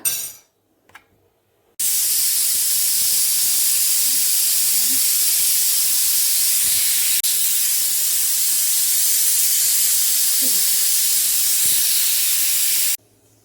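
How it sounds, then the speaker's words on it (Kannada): Steam rushes out in a loud, steady hiss from a pressure cooker whistle while cooking raw jackfruit curry, running continuously for several seconds before cutting off abruptly. "ಈಗ ಕುಕ್ಕರ್ ಮುಚ್ಚಿಬಿಟ್ಟು 2 ವಿಷಲ್ ತೆಗ್ಸೋಣ"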